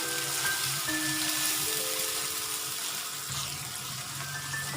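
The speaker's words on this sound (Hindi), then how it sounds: "प्याजों को हम हल्का सा गोल्डन ब्राउन करेंगे।" Chopped onions fry in a pan for an achari chicken dish, giving a steady close sizzle that runs unbroken for several seconds without any talk.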